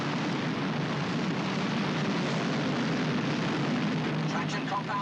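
Two top European dragsters, Dennis Priddle's Mr. 6 and Allan Herridge's Alleygator, roar loudly and continuously at a 1980s drag strip, a dense unbroken engine blast close by.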